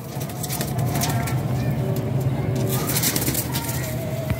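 Pigeons cooing in a pigeon loft or gallery, soft, continuous low coos close by, with faint chirps and some background noise and no clear speech.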